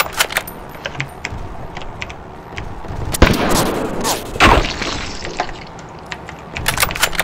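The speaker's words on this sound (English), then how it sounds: "They're starting to shoot back" Enemy gunfire in the H-Sniper WW2 video game: a dense spray of sharp, crackling shots and impacts through the middle of the clip, over a steady game backdrop with scattered clicks and jangles.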